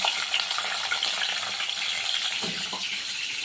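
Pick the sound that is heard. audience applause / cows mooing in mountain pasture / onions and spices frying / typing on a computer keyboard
onions and spices frying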